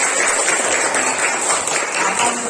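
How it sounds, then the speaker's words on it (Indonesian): A class of pupils applauds together in a dense, steady burst of clapping that fills the room for a couple of seconds, with some voices mixed in. "tepuk tangan buat kita semua"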